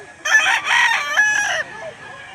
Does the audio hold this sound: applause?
no